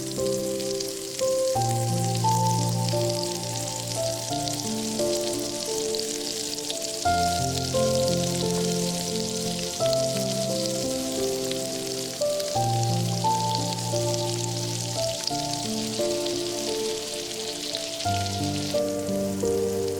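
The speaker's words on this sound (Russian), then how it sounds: "Выкладываем кабачки и обжариваем несколько минут до легкого подрумянивания." Zucchini frying in butter in a pan for a summer omelette, a steady crackling sizzle that runs the whole time beneath prominent background music.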